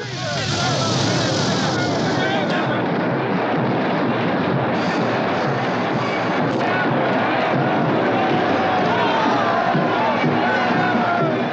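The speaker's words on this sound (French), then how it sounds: "Le tir des manifestants se précise et la police charge aveuglément dans la foule." A large crowd of spectators at a Montreal protest in October 1970 as police charge into it, a dense continuous roar of many voices with shouting, loud and sustained, under a narrator's speech.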